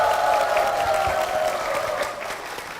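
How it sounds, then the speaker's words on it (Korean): The congregation of Ansan Sanjunghyun church breaks into a warm round of applause, many hands clapping together and gradually tapering off over a few seconds. "담임 목사님과 교회를 위해서 힘찬 박수 부탁드리겠습니다"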